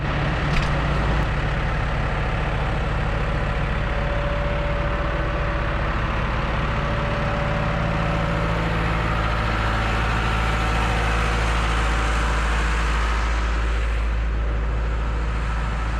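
A farm vehicle engine left running idles with a continuous low, throbbing rumble, close and loud, steady for the whole stretch with no speech.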